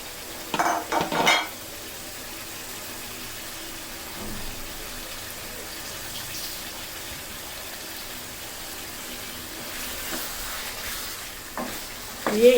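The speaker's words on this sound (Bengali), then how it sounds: "দিয়ে এবারও 5 মিনিটের মতন আমি ভালো মতন তেলের সাথে মশলার সাথে আমি চিকেনটাকে কষিয়ে নিব" Marinated chicken with spices being sautéed in oil for reshmi chicken, a soft steady sizzle with a few clinking stirs of a utensil against the pan near the start and end; no one talks.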